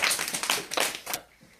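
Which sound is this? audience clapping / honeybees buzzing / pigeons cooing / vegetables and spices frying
audience clapping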